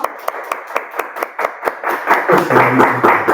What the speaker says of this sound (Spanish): Nos le damos un fuerte aplauso